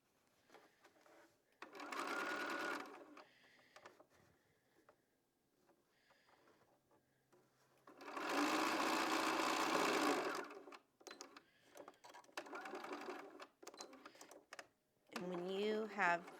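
A sewing machine stitches quilt rectangles together along a hefty seam, running in three separate bursts of close, steady whirring. Quiet pauses fall between the bursts, with a voice briefly at the end.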